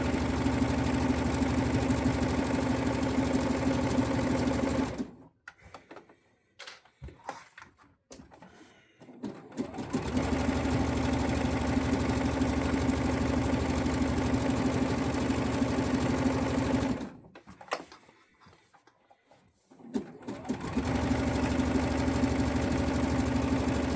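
A sewing machine runs slowly over thick seams while stitching waistband elastic, a steady mechanical whir in two long bursts separated by a pause of near silence.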